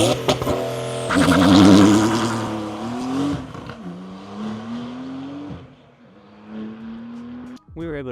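A 675-horsepower Porsche 911 Carrera T (992.2) flat-six revs hard and accelerates up through the gears with a rising, whining tone, loud and close, easing off near the end.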